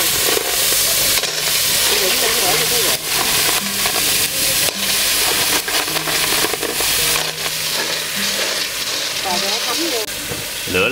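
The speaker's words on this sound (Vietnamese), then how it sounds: "Lửa lớn như vậy xào mới ngon nha mọi người" Snails stir-fried over high heat in oil with lemongrass and turmeric sizzle and hiss loudly and continuously, with scraping stirs and clatters, while people talk over the cooking.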